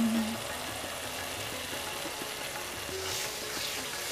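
Melon seed paste sautéing in oil in a pan for mutton korma, giving a steady soft sizzle with faint stirring scrapes and a low background hum throughout.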